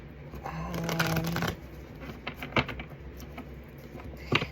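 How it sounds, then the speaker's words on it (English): Tarot cards are shuffled close by in quiet rustling bursts, a dense riffling flurry followed by softer slaps and taps of cards settling, with brief faint voice sounds in between. "I'm going to go ahead and start shuffling"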